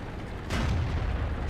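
A single tank cannon shot booms in a World of Tanks battle, a muffled burst followed by a low, lingering rumble at moderate volume, with no speech over it.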